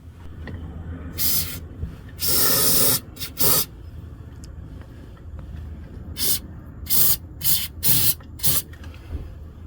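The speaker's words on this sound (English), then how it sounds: "Quick start to the rescue" Quick Start starting fluid sprays onto a Yanmar boat engine in short hissing bursts: one long blast, then several quick spurts separated by pauses, close and clear.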